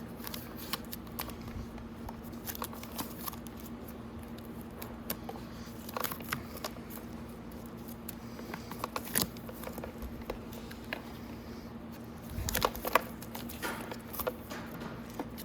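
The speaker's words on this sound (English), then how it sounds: "So let's go ahead and we'll peel our tape off and we'll take a look." Black electrical tape being peeled off the solenoid of a Venom Grizzly 125cc ATV, heard as soft, irregular crackling and ripping, close and quiet, with a brief louder tug near the end and no talking.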